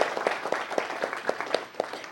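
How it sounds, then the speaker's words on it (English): An audience at a council meeting claps in a short burst of applause, with individual claps distinct and fairly near, fading toward the end. "give her a round of applause"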